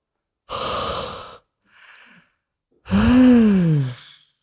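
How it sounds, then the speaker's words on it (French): A person breathes deeply during a yoga relaxation session: a long audible inhale, a faint pause, then a loud, voiced sighing exhale, close and alone. "Une respiration."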